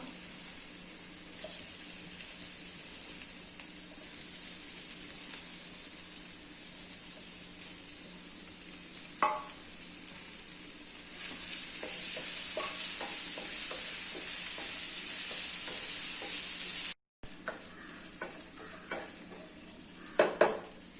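Elephant foot yam pieces and crushed garlic frying in a pan, with a steady close sizzle and light scraping stirs. The sizzle swells louder partway through, then cuts out briefly before the stirring resumes with a few sharp clinks.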